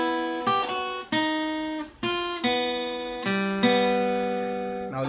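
An acoustic guitar plays a short practice melody of about eight plucked notes at a steady, unhurried pace, each note ringing and fading, close and clear with no voices.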